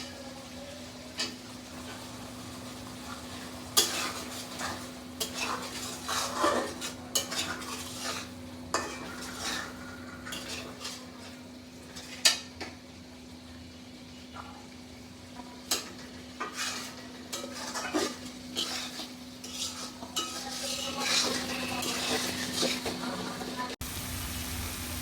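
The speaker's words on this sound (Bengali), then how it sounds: "মশলাগুলো আমার কষানো হয়ে গেছে।" Spices and homegrown tomato cooking down in a pan for a prawn malai curry bring quiet sizzling with intermittent clinks and scrapes of a spoon stirring against the pan, fairly faint and close.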